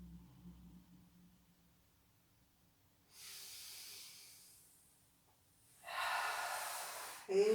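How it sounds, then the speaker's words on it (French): Slow, breathy exhalations during a Hatha yoga session: a soft hiss of air rising and fading after a quiet pause, then a second, louder outbreath ending in a brief sharper gust, close and alone. "J'expire."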